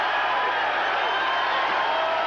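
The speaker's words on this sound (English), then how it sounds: "As we reach the end of round 7. And the crowd comes to its feet." Boxing arena crowd at the close of round seven in a Larry Holmes versus Trevor Berbick fight, a steady, loud roar of cheering and whooping that fills the space without letup.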